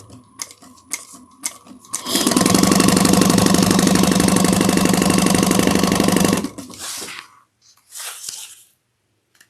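A sewing machine stitches a 3/8-inch seam on a crossbody bag, a loud steady rapid mechanical whir lasting about four seconds, preceded and followed by quieter handling clicks.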